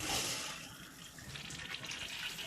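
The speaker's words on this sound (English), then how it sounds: "we have water flow, which means the valve is working" Water rushing through a newly fitted toilet supply valve, a faint, steady hissing flow that continues without a break for a couple of seconds, with no talking.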